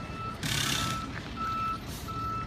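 A truck's reversing alarm sounds in steady, evenly spaced beeps, clear and moderately near, over a low engine rumble, with no talking.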